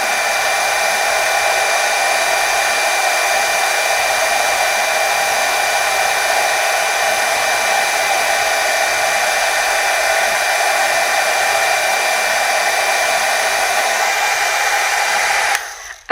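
A hot heat tool blows steadily over gold embossing powder on a stamped image, a constant loud whirring hiss that runs unbroken before cutting off abruptly at the end.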